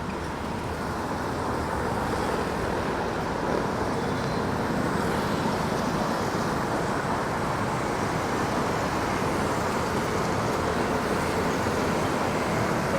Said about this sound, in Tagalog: Kaya makikita nyo, mabibilis ang mga sasakyan.